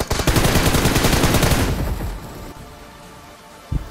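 Loud, dense automatic gunfire in a PUBG match, a rapid rattling burst of enemy fire that fades into a quieter tail, then one more sharp shot near the end.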